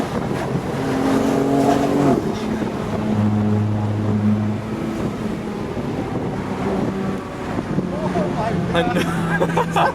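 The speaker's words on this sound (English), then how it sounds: "It's the perfect amount of deep, throaty inline 6 sound." A tuned Stage 2 BMW F80 M3 inline-six with catless downpipes and an open exhaust valve gives a deep, throaty drone that rises and falls in pitch during driving. Wind noise runs underneath and a person talks over it.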